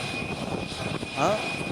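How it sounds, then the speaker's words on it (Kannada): A Tejas fighter jet flies over during an Aero India air show rehearsal in Bengaluru, a steady engine roar heard under overlapping talk, with a short rising whine near the end. "ನೀವು ನಮ್ಮ ಸ್ಕ್ರೀನ್ ಮೇಲೆ ನೋಡ್ತಾ ಇರೋದು ತೇಜಸ್ ಯುದ್ಧ ವಿಮಾನ."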